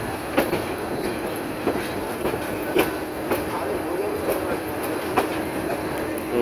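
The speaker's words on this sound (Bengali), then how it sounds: "রমনাগড় স্টেশনটি ভৈরব বাজার জংশনে প্রবেশ করেছে" Mohonogor Express, a Dhaka to Chittagong train, rolling into Bhairab Bazar junction with a steady rumble and regular clickety-clack beats of wheels over rail joints, close and continuous.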